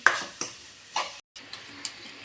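Chopped tomatoes with salt are sautéed and mashed in a pan for a cabbage side dish: soft sizzle under a regular series of spoon scrapes and taps, about five or six in quick succession, fairly close.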